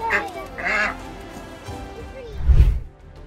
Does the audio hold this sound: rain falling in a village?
no